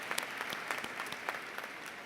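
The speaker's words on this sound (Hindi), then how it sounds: "एक बार जोरदार तालियों द्वारा इन सब लोगों को" Audience at a spiritual gathering applauds the team members, a dense wash of hand claps from a moderate-sized crowd, steady and sustained for the full stretch, with no one speaking over it.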